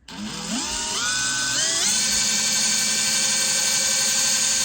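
A small drill spins up in steps to a high, steady whine and keeps running loudly as it bores into a hard mother-of-pearl inlay on an Epiphone Lucille guitar.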